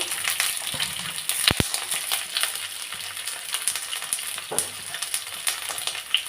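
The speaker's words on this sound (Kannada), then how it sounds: "ಫ್ರೈ ಮಾಡೋಕ್ಕೆ ಬೆಳ್ಳುಳ್ಳಿ ಒಂದು ಗೆಡ್ಡೆ ತೊಗೊಂಡಿದ್ದೀನಿ" A whole bulb's worth of garlic cloves frying in a pan, with steady close crackling sizzle and a few sharp clicks and scrapes as it is stirred, no voices.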